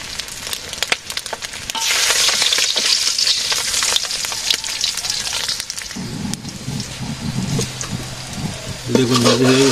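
Eggplant frying in a pan in a village kitchen, a loud bright sizzle for several seconds with scattered clatter and pops, fading out as a low hum and brief voices come in near the end.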